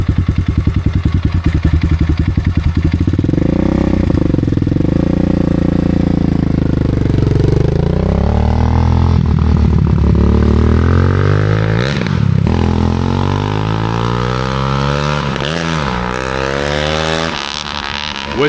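A 300cc motorcycle engine, a GST 300cc, revs loudly and close, rising and falling in pitch through repeated throttle blips over a rough, clattery idle for the whole stretch, with no talk.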